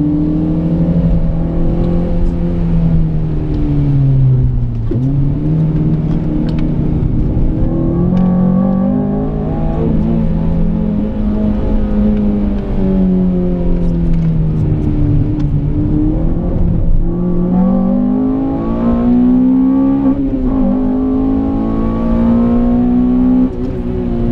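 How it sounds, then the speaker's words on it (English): A Ford Escort revs and shifts around a wet race track during a rainy track day, its engine note climbing and dropping repeatedly in a close, continuous drone. "Gotta be careful with this Ford Escort."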